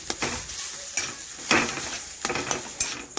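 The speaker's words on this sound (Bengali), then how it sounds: "এখন ভালোভাবে মশলার সাথে ছানা একটু আমি কষে নিচ্ছি।" Chhana cottage cheese is stirred with spices in a pan, with repeated sharp spatula scrapes and clinks against the metal over a soft, faint sizzle.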